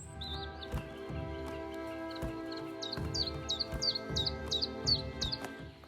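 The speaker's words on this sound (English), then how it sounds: "the bird we saw the most of was the stonechat" Stonechat giving a series of short, repeated chirping calls on open heathland in the Ashdown Forest, about eight clear notes in quick succession over a steady low background hum.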